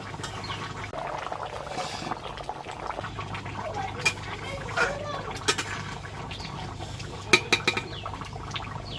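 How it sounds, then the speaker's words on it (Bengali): Chicken meat for a curry made with ground spices boils in a covered pot, giving a steady, low bubbling simmer with a faint hum and a few light clinks near the end. "ঢাকা দিয়ে মাংস সেদ্ধ করে নেব ভালো করে।"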